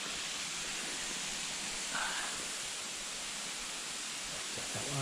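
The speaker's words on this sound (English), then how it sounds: "Nice little stream." Small creek called Robinson Creek flowing through bushland, a steady soft wash of running water close by, even and continuous with a brief brighter splash partway through.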